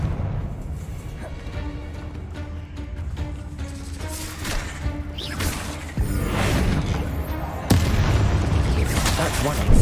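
Confringo spell explosions in the video game Hogwarts Legacy, several booming blasts with crashing debris that build in loudness toward the end, mixed with game sounds and a speaking voice.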